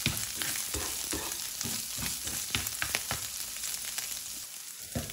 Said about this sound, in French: Le but du jeu, c'est de bien faire dorer les miettes de crevettes.